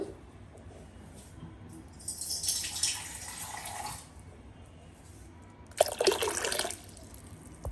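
Water is poured over sprouted horse gram in a cooking vessel in two splashing pours, close by, separated by a quiet pause.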